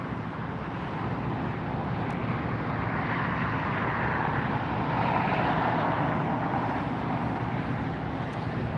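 A United Airbus A321neo arriving from Chicago at LAX airport: a broad, steady jet roar that swells slightly in the middle and stays distant, with no talk.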